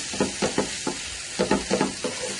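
Small chicken pieces fry lightly in a pan while a spoon stirs in quick, rhythmic strokes, each scrape rising briefly over a soft sizzle, heard up close and without speech.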